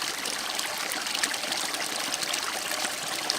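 Rainwater trickles and splashes steadily through a filter at a campsite, a continuous bright hiss with small irregular drips, close by and unbroken.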